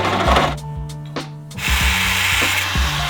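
A bandsaw cuts metal brackets for a car build, with a humming motor tone under bursts of harsh, gritty cutting noise and a few clunks, loud and close throughout.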